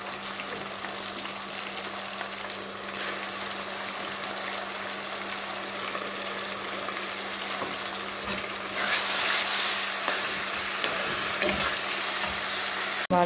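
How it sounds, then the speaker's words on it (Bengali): Ginger and garlic fry in hot oil in a pan for a biryani, a continuous close sizzle with occasional stirring scrapes; the sizzle grows louder and brighter toward the end, with a steady low hum beneath. "আদা রসুন ভাজা ভাজা হয়ে গেছে"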